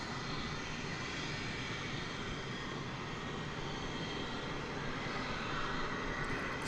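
An airliner in green livery, flight 513 bound for Denver at DFW Airport, its engines a distant, even rumble holding steady throughout, with no talking.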